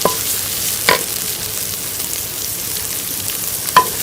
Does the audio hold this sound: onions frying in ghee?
yes